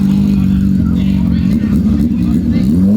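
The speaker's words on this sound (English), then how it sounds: "Look at Jordan revving his S1K with the Acro exhaust" A BMW S1000RR sport motorcycle with an Akrapovic exhaust revs hard at a crowded BMW car meet, a loud close rasping engine note that holds steady then climbs at the end, with people talking underneath.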